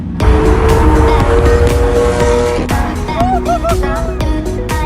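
Lamborghini Aventador supercar driving on a freeway, a loud sustained engine roar with tire and road noise throughout, pitch shifting as it accelerates, with brief voices mixed in.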